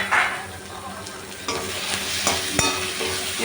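Steady sizzling and frying of vegetables with tomato and curry leaves sautéing in a pan, with occasional stirring scrapes and a light clink; no talking.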